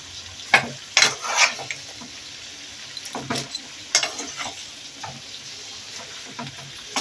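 A utensil stirs spinach and a fried fish head together in a pan, giving scraping strokes and soft clatter over a low sizzle, with a few sharper knocks early on and quieter stirring afterward.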